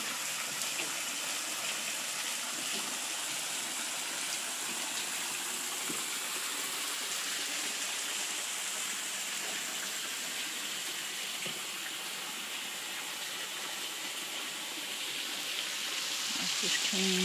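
Steady broadband rush of a backyard pool waterfall running continuously, close and even in level, with faint voices now and then beneath it.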